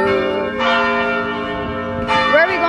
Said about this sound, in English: Church bell ring-a-ling-a,